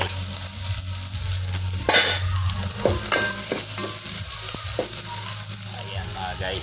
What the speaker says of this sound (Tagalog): ang ating ginisang sibuyas sa bawang